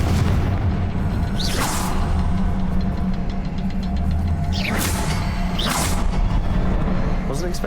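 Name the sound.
Confringo blast spell in the video game Hogwarts Legacy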